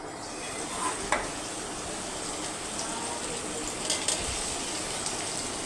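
A spoon stirs a chola dal mixture in a pan with a soft, continuous sizzle, and a few sharper clicks and scrapes stand out now and then against the steady frying hiss.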